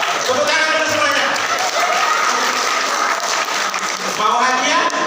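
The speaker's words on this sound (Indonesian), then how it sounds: "Tepuk tangan dulu semuanya." A crowd bursts into loud, sustained applause, dense clapping filling several seconds with a few voices calling out over it.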